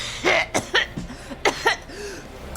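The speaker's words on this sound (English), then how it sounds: "she starts hacking and coughing in midair" A woman hacking and coughing in harsh, repeated bursts with throat clearing, several rough coughs spread across a few seconds, close and clear with no other talk.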